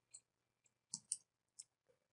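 Computer mouse clicks in Word: a few sharp, quiet clicks spaced irregularly, including a quick double click, against near silence.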